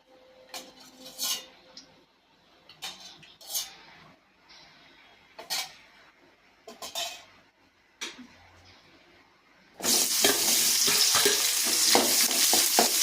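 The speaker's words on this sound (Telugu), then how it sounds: "ఫస్ట్ అయితే కళాయి పెట్టుకున్నాం. తర్వాత కొద్దిగా ఆయిల్ వేసేసుకొని" Scattered clinks and scrapes of utensils on a kadai pan come first. Then loud, continuous sizzling begins as oil heats in the pan for chicken curry.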